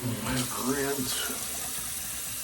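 A razor being rinsed under a running tap during a wet shave, with a steady rush of water and splashing close by, and a brief voice early on.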